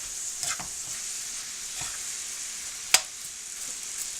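Cilantro is stirred into food frying in a pan for lasagna, with a steady close sizzle under scattered soft scrapes and one sharp clink of the utensil against the pan.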